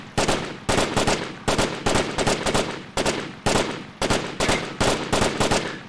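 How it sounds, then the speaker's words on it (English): Support machine gun in a video game, firing roughly eight short controlled bursts in a steady rhythm, loud and close with brief gaps between them. "if you keep these short controlled bursts"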